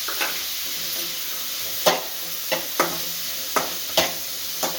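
Peas frying in oil in a pan for paneer butter masala, with a steady hiss of sizzling and several sharp scraping clicks from a stirring spoon at irregular intervals, close and moderately loud.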